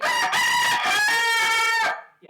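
An Icelandic rooster crows once, a loud, close, harmonic cock-a-doodle-doo lasting about two seconds with a quick break near the start, heard alone in a snowy setting.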